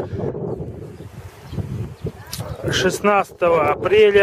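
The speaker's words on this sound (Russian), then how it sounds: "дует ветерок" Breeze blowing through flowering Vasilisa sweet cherry trees in an orchard in Krasnodar region in mid-April, heard as a low, steady rumble of wind that gives way to someone talking.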